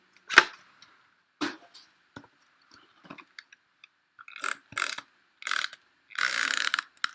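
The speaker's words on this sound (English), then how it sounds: "Take that branding strip and make it work. Using my trimmer, my favorite trimmer. Cut that." A paper trimmer slices a branding strip for a scrapbook layout, giving short separate clicks and ratcheting snaps, then a run of louder sliding cuts close by in a quiet room.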